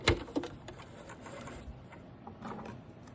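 Sewing machine stitching a straight seam, a soft, quiet mechanical whirr with light ticking, steady and close, alone without talk.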